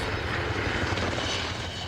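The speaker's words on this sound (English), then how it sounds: "It's a twin-engine helicopter, so we have an engine either side on top" A twin-engine Black Hawk helicopter at an air show gives a loud, steady, broadband turbine roar and rotor rumble, continuous and without pauses, with no voices.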